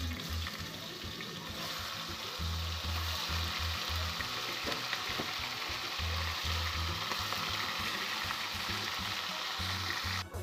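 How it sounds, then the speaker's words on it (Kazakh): Chopped meat fries in hot oil, giving a steady, loud, dense sizzle with bubbling crackle throughout and no voices. "Етімізді турап болғаннан соң қызып тұрған майға қуырып алатын боламыз"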